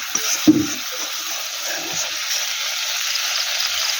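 Potato pieces drop into hot oil over cooked-down spice paste for a potato curry: a short thud and splash of sizzle, then an even, sustained frying hiss close by.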